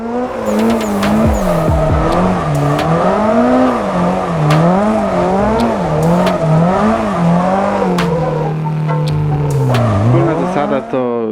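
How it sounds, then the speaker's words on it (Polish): A race car drifting in the Assetto Corsa driving game, played on a Logitech G2 wheel: the engine note rises and falls in pulsing waves as the throttle is feathered, with tire squeal and skid noise, loud and continuous throughout. "wprowadzamy auto w poślizg, odpuszczamy gaz, E, dodajemy z powrotem"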